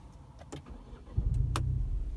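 Three-cylinder engine of a 2018 Ford Fiesta ST hot hatch cranks and catches after a few faint clicks, settling into a steady idle close by, with no talking.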